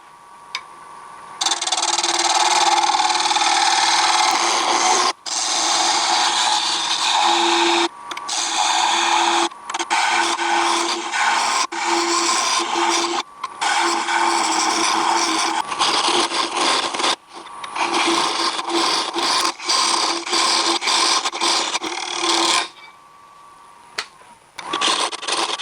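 A power tool hollows out wood with a 1-inch scraper at about 1100, giving a steady grinding, scraping drone in long stretches broken by short pauses and occasional clicks.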